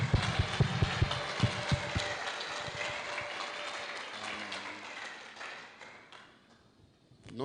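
A congregation at a thanksgiving dinner in a hotel in Goma applauds in a dense burst of clapping that fades over a few seconds under sustained music.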